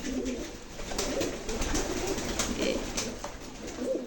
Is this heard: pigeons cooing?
yes